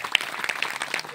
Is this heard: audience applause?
yes